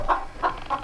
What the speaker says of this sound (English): That rooster right there, Fluffyfoot, we call him.